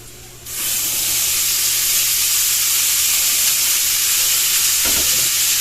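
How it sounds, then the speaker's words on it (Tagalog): String beans hit the hot oil left over from frying fish and set off a loud, steady sizzle with a bright hiss that holds for several seconds, and a faint scrape of stirring comes near the end. "Tayo po ay magigisa na lang rin po dito po sa pinagpritusan"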